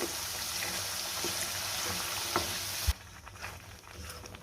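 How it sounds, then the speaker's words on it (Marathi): Ground spice paste for a spicy village-style mutton curry fries in hot oil, a steady close sizzle with scraping stirs, quieting abruptly near the end. "आता ह्यात मी आपण जे वाटण तयार करून घेतलेले ते घालते आणि वाटण आपल्याला चांगलं तेल सुटेपर्यंत परतून घ्यायचंय"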